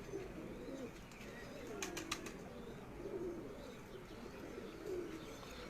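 Badshah breed pigeons coo softly in slow, repeated rolling calls at a quiet loft, with a short burst of wing flaps or clicks midway and little else around.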